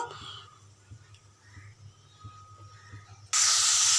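Shredded cabbage drops into hot oil that has been tempered with dried red chillies and nigella seeds; after quiet pan sounds, it bursts into a loud, sustained sizzle close by.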